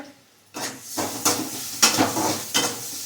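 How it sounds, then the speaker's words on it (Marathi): Okra and onion fry in a pan, with a soft continuous sizzle broken by four or five distinct scraping stirs of a spatula against the metal, close and clear, with no talk. "आता याच्यातच परत मी भाजी करायला लागली भेंडीची आता कांदा चांगला परतला की आपण घालूया टोमॅटो"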